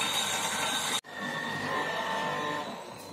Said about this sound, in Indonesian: ini kacang mede yang sudah saya sangrai, saya akan haluskan dengan menggunakan grinder food processor